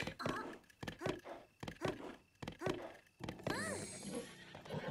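A horse in the video game Relics of The Past neighs and whinnies repeatedly, loud and close. Thudding hoof knocks punctuate the sound, and a long shrill wavering whinny comes near the end.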